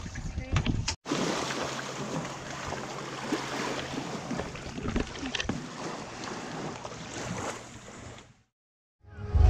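Steady engine drone and rushing water of a boat underway in the Banda Islands, Indonesia, with wind buffeting the microphone, then an abrupt cut near the end.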